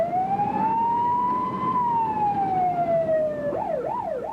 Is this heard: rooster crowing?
no